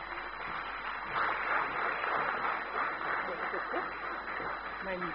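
A large conference audience at INFOCOM 2015 in Calcutta applauds steadily for a speaker. The clapping is a dense, continuous wash filling the hall, with no break from start to finish.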